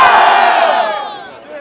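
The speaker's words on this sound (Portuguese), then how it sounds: "Quem gostou mais da rima do GTA? Mão pro alto e barulho." A large crowd at a Batalha do Tanque rap battle in São Gonçalo (2017) roars and cheers loudly, with dense shouting that swells and then gradually fades before a slight lift at the end.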